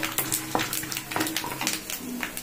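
Cumin and mustard seeds sizzle in a pan for peanut chutney with mint, a short close crackle with light spoon scrapes and clinks, and no talking.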